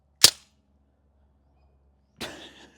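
Two sharp airsoft replica gun shots aimed at a small 3D-printed disc target with 10% infill, the first a crisp loud crack, the second about two seconds later with a rougher, rattling impact tail, separated by near silence.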